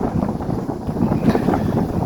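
Cold wind on Phu Thap Boek mountain in Thailand gusts against the microphone, a low, buffeting rumble that swells and eases slightly without a break, close and fairly loud.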